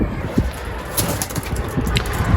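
Domestic pigeons cooing at their nest, giving low, soft coos with some light flutters against a fairly loud, noisy background.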